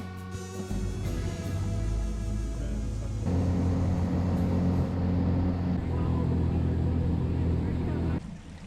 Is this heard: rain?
no